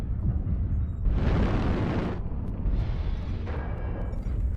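Ultra autocannon fire from a mech in MechWarrior Online sounds in two loud, dense bursts of rapid blasts, each about a second long, separated by a short pause, over a steady low engine rumble.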